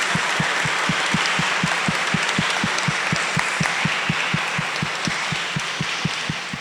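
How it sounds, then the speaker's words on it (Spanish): Applause from the audience at a faith-and-reason panel discussion held during a religious festival, a continuous hiss of clapping over a steady rhythmic low thumping throughout. "les damos un aplauso"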